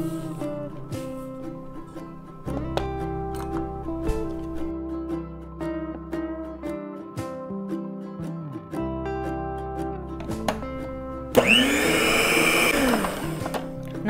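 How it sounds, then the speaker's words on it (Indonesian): An electric mixer runs at low speed through pineapple cookie (nastar) dough, a steady whirring drone in two long stretches over soft background music, ending in a louder, rougher burst. "ini nanti kita mixer sebentar aja asal kalis dan kita pakai speed atau kecepatan rendah."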